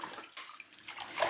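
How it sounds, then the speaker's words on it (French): Shoes being rinsed by hand in a bucket of water: continuous close splashing and sloshing with no pauses and a brief louder surge near the end. "dans l'autre seau, je vais juste rincer"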